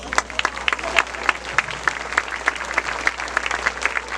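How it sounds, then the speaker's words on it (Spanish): Church congregation applauding during a Spanish-language sermon service: close, lively clapping with many distinct sharp hand claps in an uneven rhythm, loud and continuous over a low hum. "Y ahora dale un aplauso al Señor."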